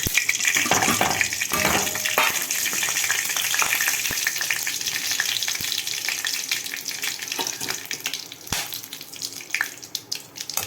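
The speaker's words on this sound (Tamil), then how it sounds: "இப்போ இந்த கடுகு உளுந்து கருவேப்பிலைய போட்டுருவோம்" Mustard seeds, urad dal and curry leaves hit hot oil in a pan, throwing out a loud, continuous sizzle with dense crackling and popping throughout, no voices.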